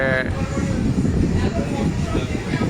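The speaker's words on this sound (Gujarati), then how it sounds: "અમારી ટ્રેન ડિપાર્ચિંગ થઈ ગઈ" Tirupati Express passenger train pulling out of a station, a loud steady rumble of rolling wheels and carriage noise throughout, with a brief higher tone at the start.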